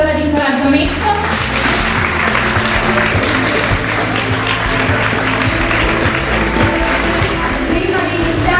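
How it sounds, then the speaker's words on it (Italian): Crowd applause cheering on beauty pageant contestants in colourful swimwear, a loud, steady, close wall of clapping sustained for the whole stretch, with voices and music faintly underneath. "un grande applauso allora di incoraggiamento"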